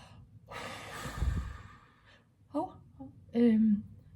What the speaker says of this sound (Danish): Og så puster vi ud.